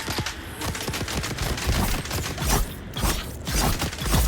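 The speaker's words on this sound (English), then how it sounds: "Can you stop shooting me?" Rapid automatic gunfire in the Dune Awakening video game, loud close bursts of shots crackling in quick repeated volleys, with mechanical clatter between them and no talking.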